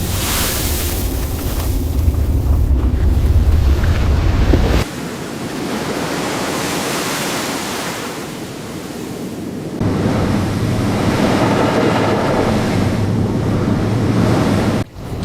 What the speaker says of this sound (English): Water rushes into the broken hull.